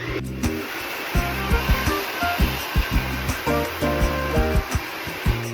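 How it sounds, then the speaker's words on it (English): Hair dryer blowing steadily and loudly close by while hair is blow-dried for volume, the airflow broken by rhythmic bumps and thumps of a brush or hands working through the hair. "wrap it, wrap it, wrap it, and then blow dry it."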